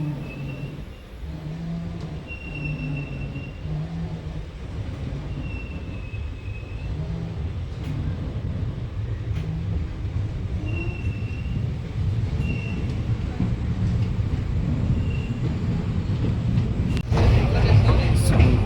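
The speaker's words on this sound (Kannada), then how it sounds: "ಘಾಟ್ಪಾಡಿ ಜಂಕ್ಷನ್ಗೆ ಟ್ರೈನ್ ರೀಚ್ ಆಗ್ತಾ ಇದೆ" Passenger train nearing Katpadi junction, a steady rumbling roll with rhythmic wheel clatter from inside the carriage, with people talking faintly and a rattling surge near the end.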